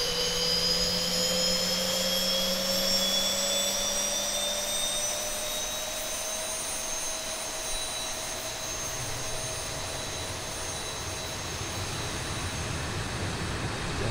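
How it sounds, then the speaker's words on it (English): A Boeing 737 jet engine spools up during start in the X-Plane 11 flight simulator, a continuous whining roar with rising tones that holds steady and loud throughout, with one brief spoken word. "start valve for engine number 2, which will come to life"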